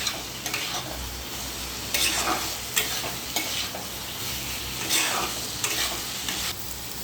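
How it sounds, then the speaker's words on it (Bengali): Spiced potatoes stir-fried on high flame for dhaba-style Punjabi aloo dum: steady loud sizzling with repeated scraping strokes of a spatula in the pan, close up and without talk. "এবারে হাই ফ্লেমে একটু কষাবো ভালো করে।"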